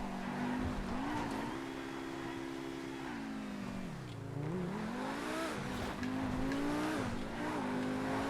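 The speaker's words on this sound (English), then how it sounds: "This is one of the quickest accelerating vehicles I think I've ever experienced in GTA." The Vacca sports car in a GTA FiveM drag race, engine roaring steadily as it accelerates hard, pitch rising and dipping through gear changes over a continuous loud drone.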